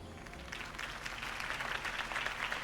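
Steady crowd applause in Batman - The Telltale Series, a dense wash of many hands clapping at a political campaign rally for Harvey Dent, continuous and moderately loud with no clear talk over it.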